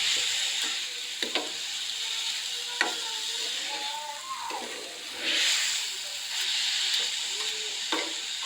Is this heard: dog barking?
no